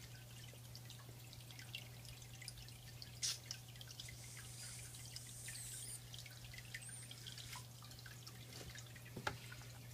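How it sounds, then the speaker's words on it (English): Water drips steadily from an aquarium drip acclimation tube started by siphon, a faint irregular patter of small drops over a constant low hum, with one sharper drip near the end. "there's water dripping out nice and steady"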